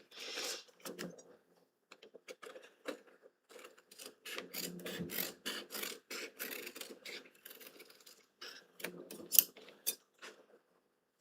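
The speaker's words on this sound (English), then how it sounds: "I just rough cut a little bit, like I said, about a 1/2 inch around my original shape" Chrome tan leather being rough cut with scissors for a mousepad: irregular, close crisp snips and crunchy slicing strokes arrive in short bursts with brief pauses between them.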